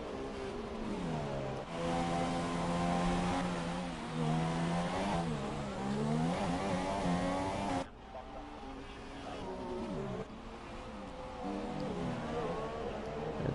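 An F1 race car engine from the F1 2017 video game at the British round whines loudly and continuously, rising and falling in pitch through gear changes and revving.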